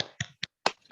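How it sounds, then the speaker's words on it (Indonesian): Schoolchildren in a classroom do a rhythmic spirit clap: three or four sharp, close hand claps in a quick, uneven pattern separated by brief silences. "Nah, sekarang kita tepuk semangat bersama-sama ya."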